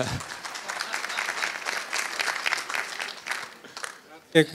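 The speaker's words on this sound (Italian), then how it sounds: "Un applauso alla nostra Valletta." Conference audience applauding: dense, sustained clapping from a crowd that fades out near the end, followed by a brief close bump.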